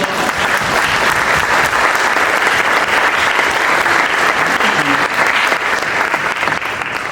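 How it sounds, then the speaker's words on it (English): Sustained loud applause from a sizable crowd, dense steady clapping that holds for several seconds before starting to fade. "I think he should get a round of applause for that"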